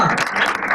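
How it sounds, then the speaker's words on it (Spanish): Crowd at a hip-hop rap battle applauds after the first round, a brief burst of loud clapping and cheering mixed together. "¡Aplauso para la primera vuelta!"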